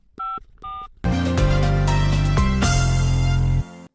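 A telephone is dialed to call Anna: two short tone beeps, then a rapid run of loud, close DTMF key tones that sound one after another for several seconds before stopping.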